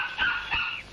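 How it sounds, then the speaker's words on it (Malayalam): A dog gives two quick, sharp barks close by, each a short, bright yelp within under a second, with no voices over them. "Silence dog, silence please. ഈ പട്ടിയെ പിടിച്ചിട്ട് ഇവിടെ ആരുമില്ലേ?"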